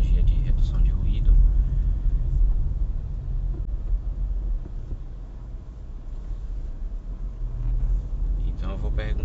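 Continental UltraContact tyres roll along a street, a low steady road rumble with wind noise heard from inside the moving car, while a person talks over it.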